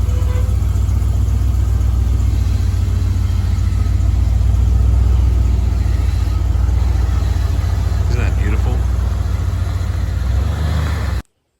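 A 1986 Ford F-150 truck engine runs with a steady, deep, close rumble that holds evenly throughout, then cuts off abruptly at the end.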